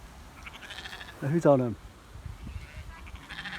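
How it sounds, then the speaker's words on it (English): A single sheep gives a short, wavering bleat in an open field, close and fairly clear, while someone speaks briefly just before it amid faint outdoor background noise. "sheep get out of my way."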